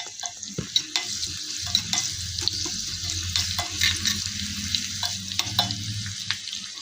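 Spices crackle and spit in hot oil as tempering for a home-style ridge gourd sambar, with sharp pops scattered over a continuous sizzle and occasional stirring knocks, close and fairly loud, no voices.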